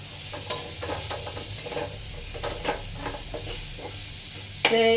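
Food frying in a hot pan gives a steady hiss and crackle with frequent scraping stirs throughout. A louder, sharper sizzle or clang comes near the end, and no one speaks.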